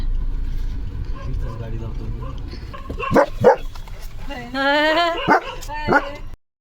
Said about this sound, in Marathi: आलाय दुसरा डॉगचा आवाज